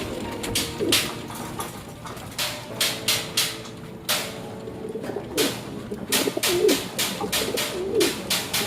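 Pigeons coo repeatedly in soft, throaty bursts nearby, amid fluttering and scattered clicking sounds.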